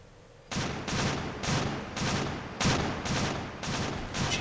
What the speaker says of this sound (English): Machine guns away.